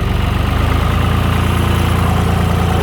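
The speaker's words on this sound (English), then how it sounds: "This tractor's not exactly in the best shape" A worn-out John Deere 2155 tractor engine idling up close, a loud, steady low diesel throb with a regular pulsing rhythm, no talk over it.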